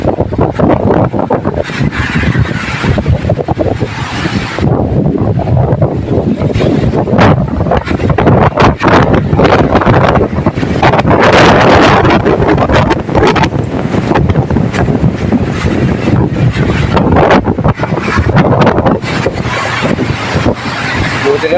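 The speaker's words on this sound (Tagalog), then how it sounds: "Grabe, lakas ng hangin. Nakakatakot dito." Strong typhoon wind roars and buffets the microphone in heavy, uneven gusts throughout, with faint voices underneath.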